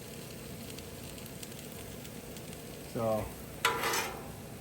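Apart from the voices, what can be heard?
steaks and onions sizzling on a Blackstone griddle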